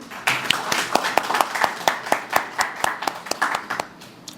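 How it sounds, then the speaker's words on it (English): Clapping at a centre's grand opening, heard as distinct, fairly evenly spaced claps from a small group, close and rhythmic rather than a dense roar. "we deserve a big round of applause for that"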